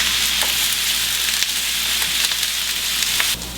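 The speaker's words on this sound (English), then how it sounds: "saute my onions, peppers, kind of get those both going at the same time" Onions and peppers sautéing in sesame oil in a skillet give a steady, loud, close sizzle with scattered crackles, running without pause and without voices.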